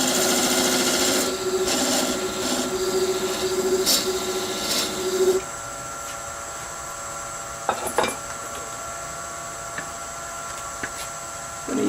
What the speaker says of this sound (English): I'm going to burnish a little groove there